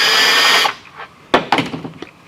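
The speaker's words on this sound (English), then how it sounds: "I'm going to use a countersink and countersink it just a little bit." A countersink bit grinds briefly to deburr a freshly drilled hole during a CCV install on a 2020-2024 L5P Duramax; a short, loud, steady whir stops abruptly, followed by a few sharp clicks and handling knocks.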